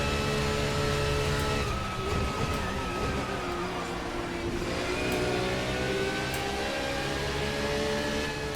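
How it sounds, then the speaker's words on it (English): A BMW race car engine in the Assetto Corsa racing game revs hard and steadily throughout, a loud, continuous mid-pitched roar that rises and falls with gear changes and throttle. "The BMW actually sounds amazing as well, along with this Audi."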